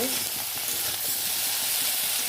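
Food with salt and turmeric frying in a pan, a dense continuous close-up sizzle and hiss with faint stirring underneath, no talking.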